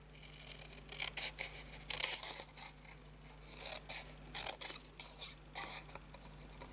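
Paper being snipped with scissors, notches cut into both sides of each corner of a card craft piece; a run of quiet, close crisp cuts and rustles in an irregular rhythm with a faint steady hum beneath, no talking.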